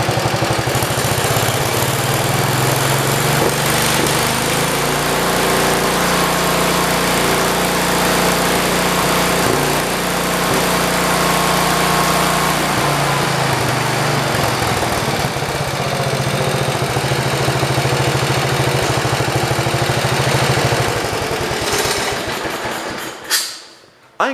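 A 1973 112 engine, freshly worked on at the carburetor with the airbox off, runs steadily and loudly at a fast idle with a slight miss, holding throttle for about twenty seconds before cutting out abruptly at the end.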